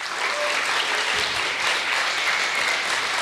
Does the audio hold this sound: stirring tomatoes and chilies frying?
no